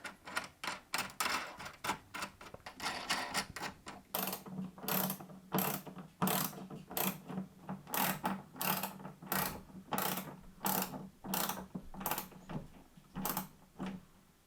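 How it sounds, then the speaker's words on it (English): A bolt being tightened down with a ratchet wrench on a cart-mounted 24-volt solar setup, a close series of rapid mechanical clicks in repeated bursts, growing more regular and evenly spaced, with no talking. "I've tightened down the bolt"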